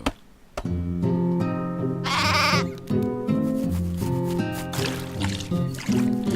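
Sheep in the video game Craft The World bleat repeatedly in a loud, wavering chorus over constant game music, several calls overlapping across the stretch.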